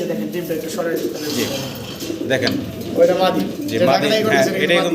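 A pair of big Mundian pigeons sitting on eggs coo in low, throaty rolling phrases close by, partly overlapped by a person talking.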